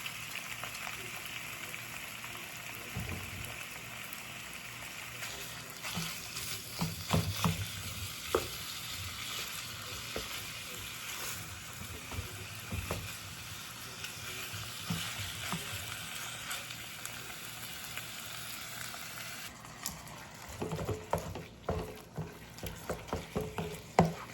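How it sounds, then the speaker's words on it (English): Ground turkey and ground beef frying in a skillet, a long steady crackling sizzle punctuated by repeated spatula scrapes and stirring knocks, close and unaccompanied by speech. "Just want to cook your meat until there's no more pink left."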